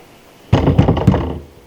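Several quick, loud knocks land on a door in a brief burst of about four or five thumps, close and alone.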